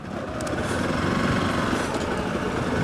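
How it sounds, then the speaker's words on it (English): A Hero Xpulse motorcycle engine with Fuelx hums along evenly at a steady pitch, with no sputters or surges, close and continuous. "at this point, see, there's barely any engine jerks."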